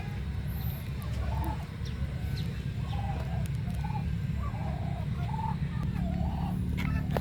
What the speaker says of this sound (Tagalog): Ang ingay ng mga pabo.